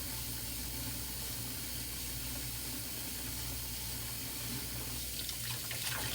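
Wet blue scrubby pad rubbing the outside of a freshly trimmed clay bowl, a steady, close watery hiss and swish that continues evenly with no speech.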